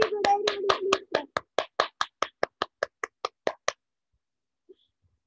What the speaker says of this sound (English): Very good, very good, everybody, please clap.